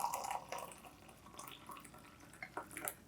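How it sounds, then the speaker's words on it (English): Boiling water poured over fresh ginger for tea, a faint close trickle and splash of liquid with a few soft drips, quiet and without talk. "All right, boiling water goes over."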